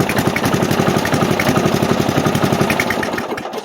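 Briggs & Stratton 11hp engine on a Murray lawn mower cranking over on a new starter, a loud steady rapid chugging rhythm close up that cuts off sharply at the end.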